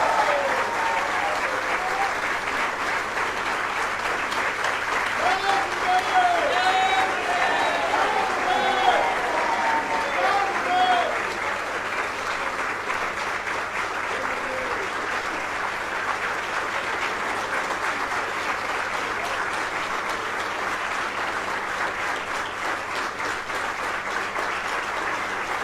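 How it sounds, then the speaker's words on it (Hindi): Sustained loud applause from a standing audience at a Mahavir Jayanti ceremony, a dense steady wash of clapping that carries on for the whole stretch, with some voices and cheering rising early on. "स्टैंडिंग ओवेशन, सब खड़े होकर एक बार जोरदार तालियों के साथ"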